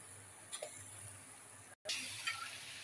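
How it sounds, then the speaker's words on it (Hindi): Water poured little by little into masala frying in a pan for suran (elephant foot yam) curry, a steady close sizzle and hiss with small splashes, briefly cutting out then resuming louder. "थोड़ा थोड़ा पानी हम डाल रहे हैं इसके अंदर"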